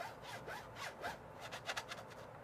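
Straight razor drawn spine-first along a vinyl-like strop, making soft, quiet rasping strokes that repeat in a steady back-and-forth rhythm with brief zipping bursts toward the end.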